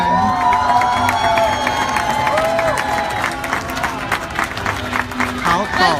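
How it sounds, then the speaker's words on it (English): A crowd applauds and cheers during the national costume show of the Miss Universe 2017 pageant. The dense clapping, shouts and whoops are loud and sustained, with an announcer's voice and tonal music layered over them early on. "Let's give that one another round of applause."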